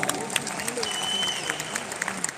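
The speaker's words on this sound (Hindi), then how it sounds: "मेरी लवली टीम के लिए एक बार जोरदार ताली।" Audience at an IMC company event gives a short round of applause, moderately quiet, with scattered sharper claps and people talking over it.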